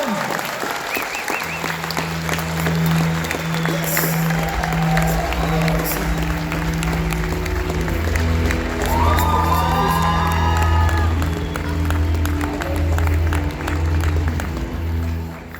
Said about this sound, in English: please give them a giant round of applause.